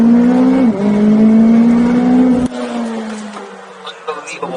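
A McLaren 720S holds a steady high-pitched engine drone at launch, then the tone drops abruptly as the supercar takes off, with wind and cabin noise following.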